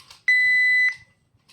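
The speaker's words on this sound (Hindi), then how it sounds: "टाइमर स्टार्ट करती हूँ सबसे पहले" A study timer gives one steady, clear electronic beep lasting just over half a second, loud and close, with a moment of quiet before and after.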